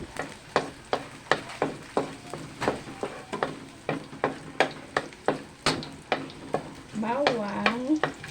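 Garlic cooks in an old, antique pan as a utensil stirs it in a steady rhythm of sharp scrapes and knocks over a soft sizzle, close and clear, ending with a brief swell of frying.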